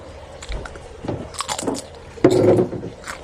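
Crisp bites and chewing of fried purple sweet potato chips, several crunches close to the mic with a louder crunchy bite near the end, no talking.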